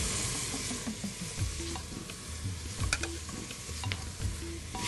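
Shallow-fried paneer stirred into a sizzling paella pan, with steady loud frying hiss and repeated scraping, clinking stirs of the spoon against the pan throughout.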